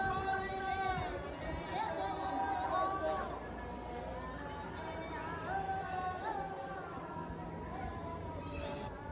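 Tourist crowd at Mehrangarh Fort in Jodhpur fills the space with a steady babble of overlapping voices and chatter, continuous and fairly near throughout, with no single speaker standing out.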